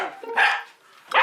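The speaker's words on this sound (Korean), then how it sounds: "진짜 많이 짖는다." A mixed-breed dog at home barking at arriving guests, two sharp, loud, close barks separated by a short pause.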